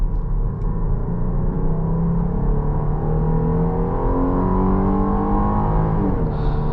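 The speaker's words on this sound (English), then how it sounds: "Put it into sport mode, a little bit of acceleration for you guys." A 2023 Jeep Grand Cherokee L V6 engine revs steadily higher as it accelerates hard in sport mode, a smooth rising drone that climbs in pitch with a brief shift near the end.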